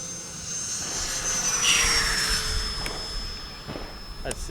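A Freewing Yak 130 RC jet takes off and flies overhead, its turbine-like whine loud and steady, with a tone that sweeps downward as it passes by close and then recedes.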